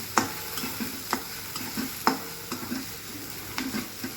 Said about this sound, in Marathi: मसाले छान थोडेसे परतून घ्यायचे आहे आपल्याला.